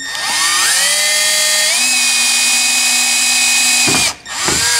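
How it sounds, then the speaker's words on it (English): A small power drill with a small bit whines steadily at high speed, drilling holes in a 46RE transmission part for a shift kit, its pitch shifting slightly as it bites in, then briefly cuts out and spins up again near the end. "we're gonna drill 2 little holes right down this guy"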